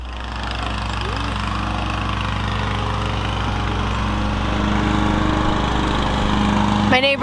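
A neighbor's lawn mower running steadily nearby, its engine drone constant and fairly loud across the whole stretch, with brief human sounds near the end.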